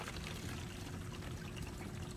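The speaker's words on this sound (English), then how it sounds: "we're going to pour some of that water into" Faint, continuous trickle of water poured from a jug through a small funnel into a cup, a steady liquid stream with no voices.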